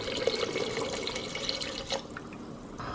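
Water poured from a tap into a pot of tomatoes, onions and beans for a vegan stew, a steady close splashing trickle with small drips, thinning out near the end.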